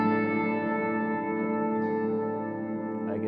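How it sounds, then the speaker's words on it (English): A sustained electric guitar chord shimmering with a wide chorus effect from a Boss CE-1 chorus, ringing steadily and slowly fading, with a light pick scrape near the end. "There's some CE1 choruses, and let's listen."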